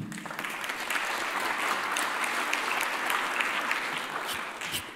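Steady audience applause fills a panel session at an annual renewable-energy industry conference, a dense, even wash of many hands clapping at moderate loudness with no talk over it.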